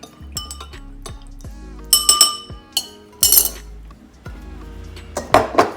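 Utensil clinking against a glass bowl while mixing tiramisu ingredients, sharp ringing taps and scrapes in an irregular series, close and alone.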